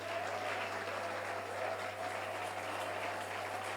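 A church congregation applauding in sustained, dense clapping that holds at an even level for several seconds, with no voices on top.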